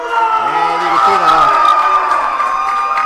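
An indoor wrestling crowd in Homer, Illinois cheers loudly and steadily for Aaron Matthews at a UWC match, with a dense roar of voices and a commentator talking over it.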